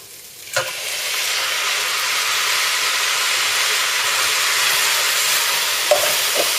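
Tomato added to a hot soup pot for a rosemary, pumpkin and chickpea winter soup gives a steady, close sizzle and hiss that holds throughout, after a brief clatter near the start.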